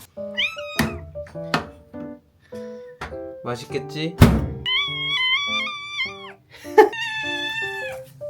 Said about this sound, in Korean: 오 고양이.